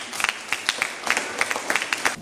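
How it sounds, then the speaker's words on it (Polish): Applause for teachers at a school award ceremony: a small crowd claps in scattered, uneven bursts, fairly close and continuous, with no talking over it. "brawa dla Was wszystkich"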